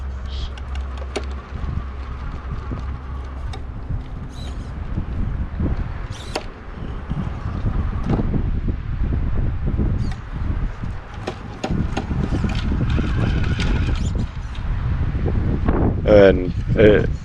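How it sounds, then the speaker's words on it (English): Gusty wind buffets the microphone on top of a rock formation at the corner of a river, a continuous low roar with rising and falling gusts, while people talk faintly and a few clicks break through. "And it got windy up on top of this rock form."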